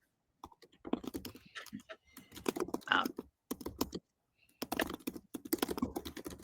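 Rapid keystrokes on a computer keyboard while a web app resembling a Kanban board is built, clicking in bursts under near, steady conversation from several people.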